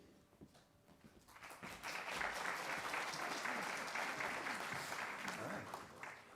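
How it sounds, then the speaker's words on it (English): A church congregation bursts into applause after the service announcements. The clapping swells within a second into a dense, sustained round from the whole room and holds steady to the end. "They applauded your announcements."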